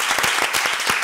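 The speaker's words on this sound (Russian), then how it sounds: "Аплодисменты!" Studio audience at a televised quiz show breaks into brief, close applause, a quick burst of overlapping claps.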